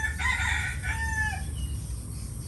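A rooster crows at a distance, a single drawn-out call over a steady low rumble of background noise, with chickens faintly around it.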